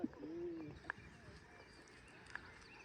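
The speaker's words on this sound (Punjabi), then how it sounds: "ਕੋਈ ਟ੍ਰੈਫਿਕ ਨਹੀਂ ਸਿਰਫ ਪੰਛੀ ਬੋਲਦੇ ਆ" Birds call in a quiet Himachal meadow near a waterfall, with a soft low coo early on and a couple of faint, brief chirps later over gentle steady background hiss.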